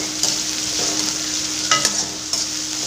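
Crushed garlic and ginger fry in a pan while being stirred, giving a constant close sizzle broken by a few sharp scraping strokes of the spoon, with no voices.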